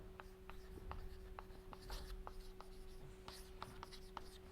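Chalk or marker tapping and scratching on a board during a mathematics lecture on a Grassmann algebra and the Potts model, a steady run of short strokes over a constant electrical hum, with no talk.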